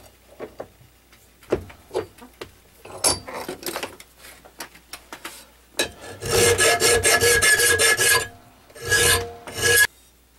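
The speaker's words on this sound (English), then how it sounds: "Belt grinder, no more than what I'm taking off." A belt grinder working a harpoon-style Bowie knife blade: scattered scraping touches at first, then long sustained loud grinding passes with brief breaks between them, close and with no talking.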